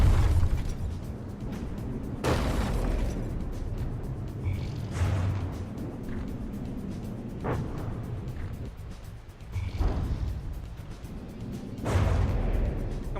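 Tank guns fire and shells burst in the From The Depths tank tournament, a series of deep booms spaced a few seconds apart over a steady rumbling battle background, with no talk.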